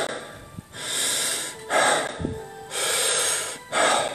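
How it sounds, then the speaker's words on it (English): A person does a rapid breathing exercise, forceful inhalations and exhalations alternating in long hissing bursts, about five strong breaths in quick succession, loud and close with no talking. "The breathing technique is it's basically a series of rapid breathing methods."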